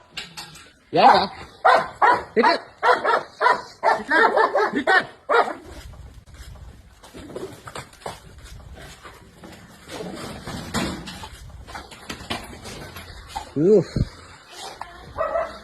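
A dog that has bitten a snake in two barks loudly and repeatedly in quick bursts, then gives scattered yips and whimpers while people talk nearby.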